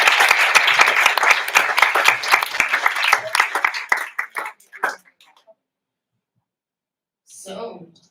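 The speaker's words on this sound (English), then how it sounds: "Applause for you guys." Audience applause at an IVSA symposium general assembly, a dense burst of clapping that thins out into a few scattered claps and stops, with a brief voice afterwards.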